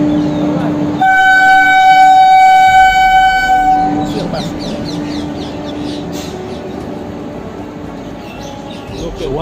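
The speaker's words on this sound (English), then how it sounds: "that's a nice view of a train coming on to the platform" A train pulls onto the platform at Gomoh railway station in India, opening with a loud, sustained horn blast, then continuing as a rumbling roll of wagons and clattering wheels close by.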